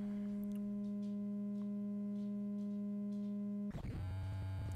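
Endorphin.es Godspeed+ oscillator playing a steady, pure sine tone, which abruptly turns into a harsher, buzzier tone when soft-synced to a Tides oscillator running at audio rate; quiet and without any voices.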